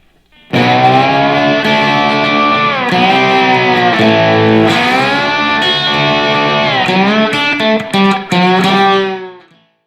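Telecaster guitar played straight into a Supro amp with a Supro Boost distortion pedal for a dirtier cover tone, ringing out loud, sustained distorted chords that shift and restrike throughout, with no talking.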